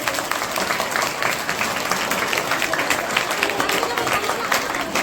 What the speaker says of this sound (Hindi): महिलाओं के सम्मान में फिर से एक बार मैं आप सबों को जोरदार ताली बजाने का आग्रह करती हूँ